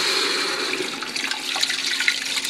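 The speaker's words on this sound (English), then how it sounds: "And go ahead and add the water here." Water pours steadily into a pot of chicken noodle soup with cooked chicken, a continuous close splashing rush with no voices.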